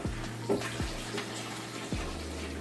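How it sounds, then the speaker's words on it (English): Hot water runs from a kitchen tap into a sink in a steady, close stream, with a few brief clunks and pops from dishes or the drain over the flow. "I'm going to put it in the sink with a little hot water."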